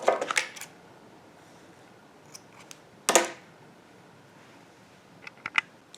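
Scissors snip the tail of crochet yarn on a finished baby blanket in a few brief, crisp clicks, with a quiet pause between them.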